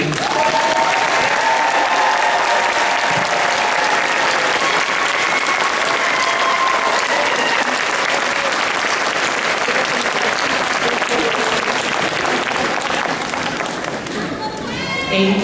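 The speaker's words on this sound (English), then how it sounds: "Students and faculty, please stand and face the audience and applaud all who are here today" An audience at a university hooding ceremony for a Department of Educational Psychology and Counseling applauds loudly and continuously in a large room, the dense clapping holding steady for the whole stretch with voices mixed in.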